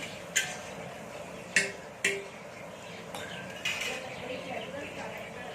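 A small ladle stirs vegetable biryani in a pot, making a few scattered metallic clinks and taps against the pot over quiet background hiss.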